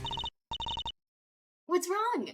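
In Ace Attorney: Miles Edgeworth Investigations, a phone call cuts off with two bursts of rapid, pulsed electronic beeps. A brief pause follows, then a short, warbling, voice-like chirp.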